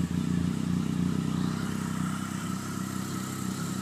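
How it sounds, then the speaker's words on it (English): A 2011 Triumph Speed Triple three-cylinder motorcycle with its stock exhaust idles close by, partly warmed up. It gives a steady, loud, even rumble that runs unbroken throughout. "I'll give it a nice little start here and see what we can get."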